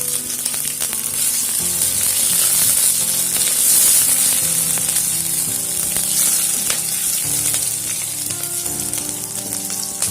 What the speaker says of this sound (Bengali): কাঁচা লঙ্কা কুচি করে কেটে দিয়ে দিলাম।